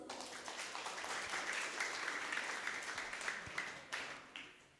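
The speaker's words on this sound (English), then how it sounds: "Once again, please big applause." Audience applause after a guest expert lecture, a steady dense patter of many hands clapping at moderate distance, fading slightly toward the end.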